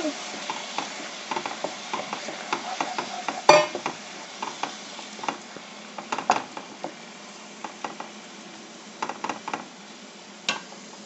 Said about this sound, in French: Je vais venir mettre de l'eau ici. Donc juste je mélange.